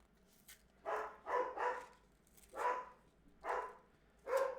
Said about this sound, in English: Dogs are at it again.